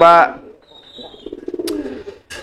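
An eight-year-old racing pigeon coos softly in short pulsing bursts after a brief voice, close by at a market, with faint chirps around it.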